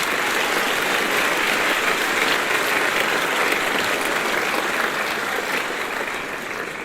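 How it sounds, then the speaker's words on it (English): An audience at a Caledonia graduation ceremony in 2025 gives loud, sustained applause, a thick roar of many hands clapping that stays steady and then tapers slightly toward the end. "give a round of applause"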